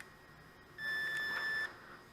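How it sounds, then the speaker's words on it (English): A single steady electronic beep lasting under a second from a Fat Shark Attitude V2 FPV headset, clear and close, against a quiet room. "You'll hear the beep."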